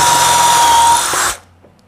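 A power drill counterboring a screw hole through material with a countersink-and-through bit, whirring loud and steady close by for over a second before stopping, with a short quieter spin-down and no talk.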